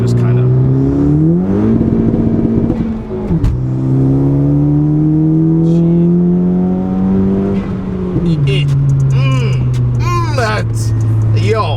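A turbocharged 10th-gen Honda Civic Si on a wet road revs hard through rising gears, its pitch climbing and dropping with each shift, loud and close, with people talking over it.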